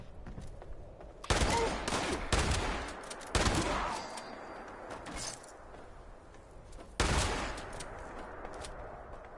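Gunfire in the video game Fallout 76 comes as several loud bursts of rapid automatic shots separated by quieter gaps, with the fire erupting in clusters over the span.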